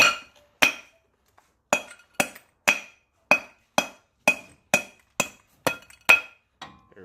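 A hammer strikes wheel studs out of a Ford Ranger brake drum in a series of about a dozen sharp, ringing metallic blows at a steady pace, close and loud, with short silences between hits.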